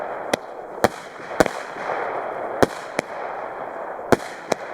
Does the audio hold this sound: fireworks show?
yes